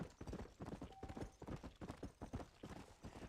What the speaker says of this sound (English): And this horse is way faster and has more stamina.